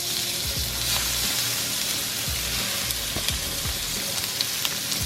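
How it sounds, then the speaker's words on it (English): Shrimp sizzling in hot chorizo-flavored oil for paella, a close, steady crackling fry with scattered small pops and stirring taps, no talking. "Now I add my shrimp. I think I need a little bit of oil, and I add my shrimp."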